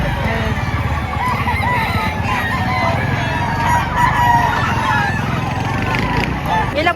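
Chickens and roosters at a poultry market in Padre Garcia, Batangas, crowing and clucking steadily over a dense, noisy crowd of background chatter and market bustle.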